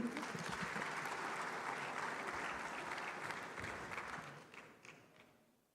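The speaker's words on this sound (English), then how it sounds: "Please, a round of applause for him." An audience at the Afreximbank Annual Meetings conference applauds with dense, steady clapping that holds for several seconds and then fades out, with no one speaking over it.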